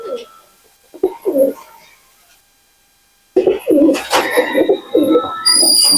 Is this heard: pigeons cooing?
yes